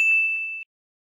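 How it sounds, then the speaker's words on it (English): A single clear electronic chime from an alarm in the horror game Parasocial by Chilla's Art, ringing bright and steady for about half a second before cutting off abruptly into silence. "The alarm is ringing."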